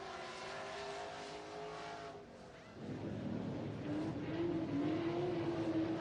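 A Pro Stock race car at Santa Maria Speedway takes the green flag on the opening lap. Engine roar builds steadily, with a rising whine in the second half as the car accelerates. The sound carries at a moderate distance.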